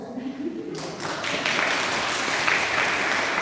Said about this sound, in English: Why did you clap?